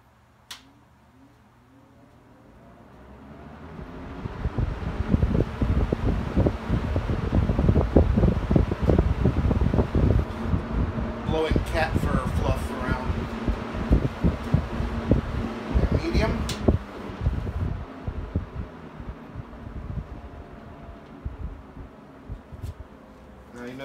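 A mid-1970s EXL seven-bladed box fan running on high: steady, broad whooshing air that swells in after a few seconds, with light ticking and rattling throughout, close to the microphone and without talk.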